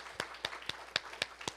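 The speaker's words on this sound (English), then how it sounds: "I'd say more applause for Sara Farizan." Sparse, quiet clapping from a small audience at a faculty book presentation, about half a dozen separate claps spaced evenly and sounding thin and somewhat distant.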